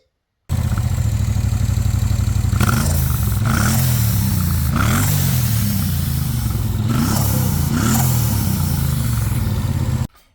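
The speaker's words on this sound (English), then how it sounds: "and with the cat opened up, the exhaust sounds like this." Bobber motorcycle with its stock exhaust, silencer tube and end baffle fitted but the catalytic converter opened up, idling with a deep rumble and then blipped through several sharp revs, loud and close.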